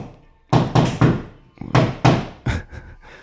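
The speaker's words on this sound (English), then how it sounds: "Sounds like a building work there." Building work thuds while new carpet is laid: about eight heavy, irregular thumps and knocks land close by, in uneven clusters with short quiet gaps between.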